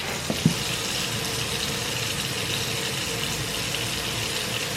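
Steady running tap water splashing into a sink while makeup brushes are washed with antibacterial dish soap, a continuous close gush with a brief knock near the start.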